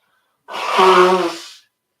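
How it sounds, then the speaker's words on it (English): One loud, close nose blow, a sustained honking snort of about a second that fades out into silence. "Not even for me blowing my nose."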